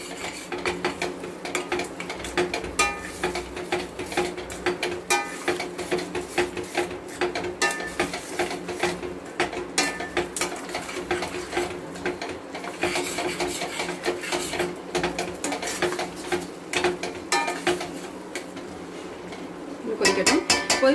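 Sautéing in a pan with turmeric and salt for a fish curry, with a constant busy clatter of a spoon stirring and scraping against the metal pan, close and steady.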